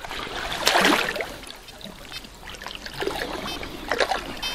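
Water trickles and splashes in a small stream near a château during metal detecting, soft gurgling with a few louder sloshes from stirring the water.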